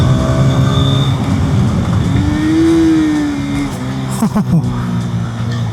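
A Hero Xtreme 250R motorcycle engine drones steadily up close while riding, its pitch rising and falling as it revs, with wind rushing over it.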